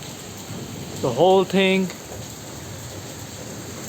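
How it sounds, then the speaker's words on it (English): Steady rain falls as a broadband hiss through the whole stretch, and someone speaks briefly partway through. "we have a rain interruption"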